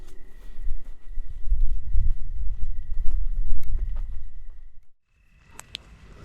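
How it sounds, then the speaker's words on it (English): Footsteps crunch and thud steadily nearby outdoors at night during a paranormal investigation. They go on for several seconds, then stop abruptly, leaving near silence and a few faint distant sounds. "Footsteps, dude."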